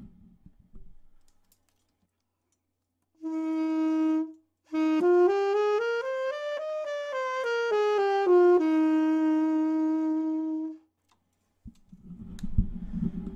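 A solo saxophone played with a classical airstream holds a steady note, pauses, then plays a smooth phrase climbing up and back down before settling on a long held tone.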